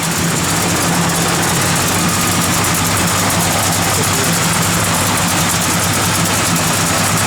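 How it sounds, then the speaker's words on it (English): A 1972 Chevrolet Monte Carlo V8 idles with a lumpy cam, a steady, loud rumbling lope that runs unbroken throughout, with faint talk mixed in underneath. "Nice sounding cam."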